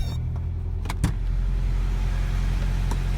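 A Toyota 22RE engine with a freshly rebuilt head cranks briefly and catches, then settles into a steady, close, loud idle that runs on alone.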